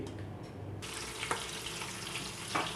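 Chopped onions frying in oil in a pot over a flame for a Punjabi chicken yakhni pulao, giving a steady close hiss and crackle with a couple of sharper clinks of stirring.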